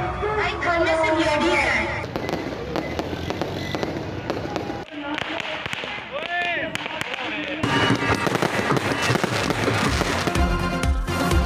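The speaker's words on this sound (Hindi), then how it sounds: "आतिशबाजी का शानदार मुजाहरा हुआ।" Fireworks crackle and pop for Pakistan Independence Day celebrations over a city, a dense, continuous barrage of bursts and crackles with shifting intensity throughout.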